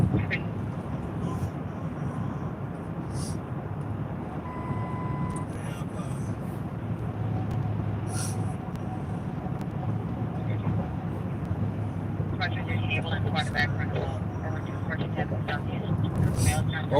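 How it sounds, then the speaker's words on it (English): A police helicopter flies overhead during a patrol, its steady low rumble droning beneath wind noise and people talking. "So it looks like the helicopter's overhead."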